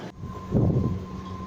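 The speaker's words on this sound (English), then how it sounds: "So that was the monorail ride, quite uneventful really" A monorail in Tokyo gives a brief, low rumble of a train car in motion, with a muffled swell of rolling noise heard from inside the cabin.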